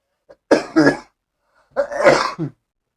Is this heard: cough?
yes